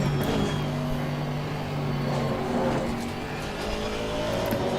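Race car engine in a VR racing game at Spa, a continuous loud droning roar with steady revving and shifting pitch, heard from inside the car throughout.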